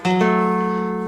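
Single guitar chord voiced in stacked thirds, struck once close up and left ringing clearly with a slight second attack, no voices over it.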